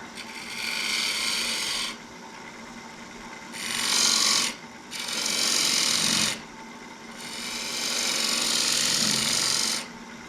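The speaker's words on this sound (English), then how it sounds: "I think it's time to sharpen that one." A hand file rasps against a tool being sharpened, in four long scraping strokes separated by short pauses, loud and close with no voices.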